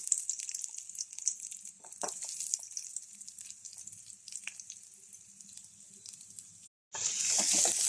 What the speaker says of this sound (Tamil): சோம்பு பொரிஞ்சோடனே நம்ம சின்ன வெங்காயம் சேர்த்துக்கலாம்